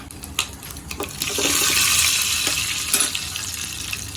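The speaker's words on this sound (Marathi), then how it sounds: "तर आपल्याला याच्यात तडका द्यायचा आहे मस्तपैकी" Tadka of curry leaves, mustard seeds and cumin sizzling in hot oil, a sudden close burst of hissing that swells, then gradually settles with a few crackles.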